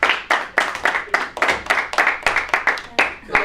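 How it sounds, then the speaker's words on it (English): A small group claps for special guests, the individual hand claps distinct and close, arriving in a quick irregular rhythm of sharp bursts throughout. "Round of applause for our special guests"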